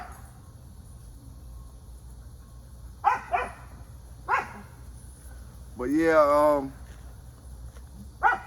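American Pit Bull Terrier working dog giving a few sharp, separated barks and a drawn-out whining whimper, fairly close, with someone talking in between.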